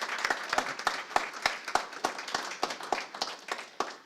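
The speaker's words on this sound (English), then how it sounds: "Give them a round of applause, please." An audience applauds at an MLK honoring event, steady overlapping hand claps with distinct sharp strikes standing out, moderately close and sustained with no talking.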